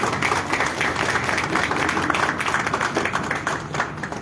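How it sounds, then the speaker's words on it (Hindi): Audience applause at a Republic Day college celebration honouring the Rangayan society's performance: dense, steady clapping from a crowd sustained through the whole stretch, with no pauses. "जोरदार तालियों से इन सब साथियों का जोश भरें"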